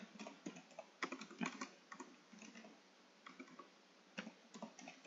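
Code typed on a computer keyboard for a LeetCode Sort Colors solution, a quiet close run of rapid key clicks in short bursts with brief pauses between them, with no talking.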